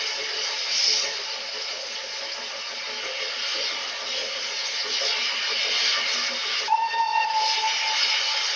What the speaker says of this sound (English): The train evoked memories of the 50s and 60s as it left the seaside town